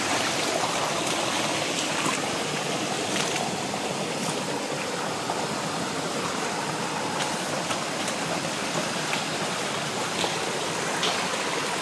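A forest stream rushes and gurgles steadily at moderate volume, a constant broadband flow with occasional splashes and no voices.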